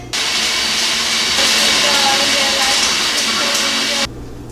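Blender running at high speed, blending frappuccino ingredients with ice: a loud, steady whirring roar with rattling, starting abruptly and cutting off sharply near the end.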